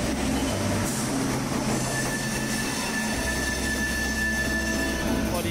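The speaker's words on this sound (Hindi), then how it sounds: "और ये हमारी ट्रेन फाइनली आ गई है, 3 घंटे लेट चल रही है ये ट्रेन।" A passenger train pulling into a station in Uttar Pradesh, India, with rumbling wheels, loud, long metallic squealing of brakes and wheels, and low rolling noise that shifts as the carriages pass close by.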